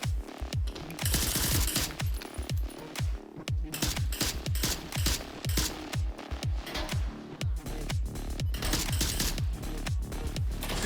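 Rapid gunfire in a VR shooter video game, with dense bursts of automatic shots and repeated punchy reports that run almost without pause, loud and close throughout.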